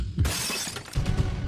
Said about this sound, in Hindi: टक्कर मार के आपकी गाड़ी का शीशा तोड़ दिया है